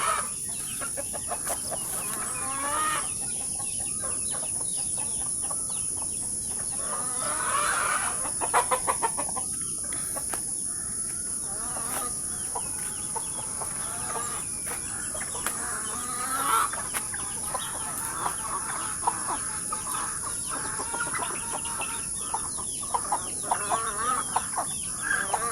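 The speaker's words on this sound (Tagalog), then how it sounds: "Alagang manok." Backyard chickens at a village house cluck and murmur steadily for about 25 seconds, with sporadic louder squawks over a hissing outdoor background and a high insect-like whine.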